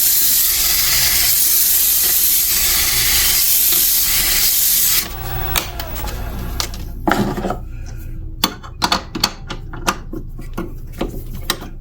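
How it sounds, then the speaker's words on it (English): Sandpaper rubs against a spinning wooden cattail, a steady loud hiss lasting about five seconds, then stopping and giving way to scattered light clicks and knocks of handling. "Just turn it on, and then we can just run the sandpaper on this side."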